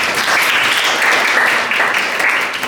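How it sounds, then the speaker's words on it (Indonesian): A class applauds a student in a classroom, a loud, close, continuous burst of many hands clapping that holds steady and tapers slightly at the end. "Kita beri tepuk tangan buat Aki"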